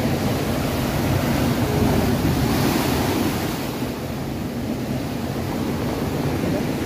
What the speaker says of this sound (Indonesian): Ombaknya terlalu tinggi